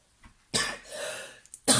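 A dry-throated cough from a woman doing papercraft: a faint throat catch, then a loud rough cough, a short pause and a second sharp cough, close to the microphone.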